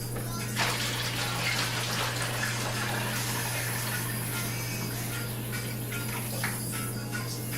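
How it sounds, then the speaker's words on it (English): Home-brewed kombucha is poured from a spouted container into a bowl. A steady, close splashing gush of liquid runs for several seconds under a low constant hum, with no talking. "Now I'm going to take this and pour my kombucha over into this."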